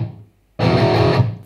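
Electric guitar through a BluGuitar Amp 1 on its metal distortion channel, a single heavily saturated chord struck after a short quiet pause and ringing dense and loud.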